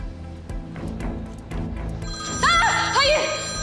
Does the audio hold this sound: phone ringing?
yes